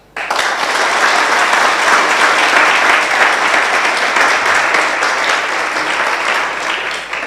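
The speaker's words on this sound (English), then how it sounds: "A hand of applause." Audience applause at the CB Madan Memorial Lecture award presentation, loud dense clapping that starts abruptly and carries on steadily for several seconds, slowly easing toward the end.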